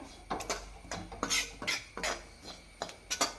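A spoon scrapes and clinks against a pan while stirring grated coconut with chilli and coriander powder for a bitter gourd and carrot theeyal, in a quick irregular series of close, moderately loud scrapes and taps.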